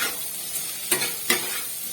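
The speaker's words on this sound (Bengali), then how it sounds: "আবারও ভালো করে এটাকে কষতে থাকবো" Coriander powder, cumin powder and tomato sautéing in a pan for veg dal, with a steady close sizzle broken by two sharp spoon scrapes, no voices.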